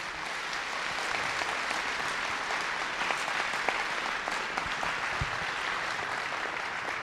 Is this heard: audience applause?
yes